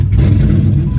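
Race car engine firing up on a dyno, a loud, dense, close rumbling roar that holds steady for a moment with no voices over it.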